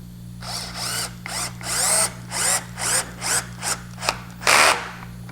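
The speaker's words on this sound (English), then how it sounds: "I'm going to run this 1 3/4 woodworking screw up in there" A drill pulses in short bursts, about eight rising whirs in a row, each grinding as a 1 3/4 inch woodworking screw bites into wood, close up.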